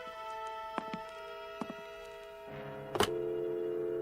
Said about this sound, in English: Let me use the phone.